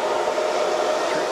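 Compressed air hisses steadily from a plasma cutter's torch during its 20-second post-flow after a cut, a loud, even rush with no breaks.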